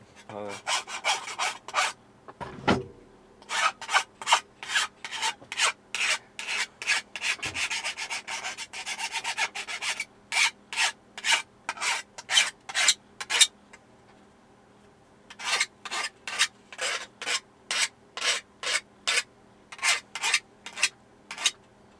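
A file rasps burrs off a stainless steel armor gauntlet in quick repeated strokes, rhythmic bursts close up with a short pause midway and a few clunks of the workpiece.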